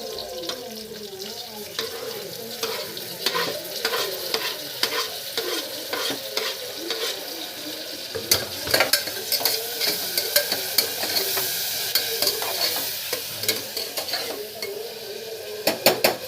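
Onions and tomatoes stir-fried in a pan for Tamil arisi paruppu rice: a spatula scrapes and clatters against the metal in an uneven rhythm over steady close sizzling, with a few sharper knocks later on.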